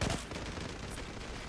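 FAMAS rifle fire in the shooter game Zula, a loud rapid burst of shots that starts sharply and then trails into a dense, sustained crackle of gunfire.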